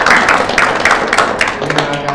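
Students at an Islamic boarding school clap their hands in a loud, quick, steady rhythm. The clapping sounds close, with a bustle of voices underneath.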